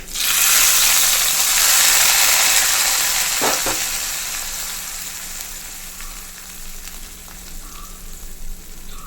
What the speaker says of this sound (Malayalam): ഇനി നമ്മുടെ താളിപ്പ് ഒഴിച്ചു കൊടുക്കാം